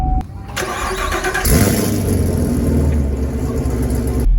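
A car engine cranks briefly and catches, then settles into a steady, loud running hum close by, with no talk over it.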